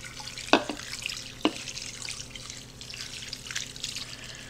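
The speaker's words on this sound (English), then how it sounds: "I'm gonna pour it all over." Beef broth mixed with Coke, Worcestershire sauce and Italian seasoning poured over a roast in a slow cooker, a steady close liquid trickle with a couple of sharp splashes early on.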